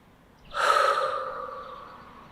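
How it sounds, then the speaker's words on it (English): One deep, audible breath drawn in sharply near the microphone, swelling quickly and then trailing off slowly, alone against a quiet background. "Deep breath."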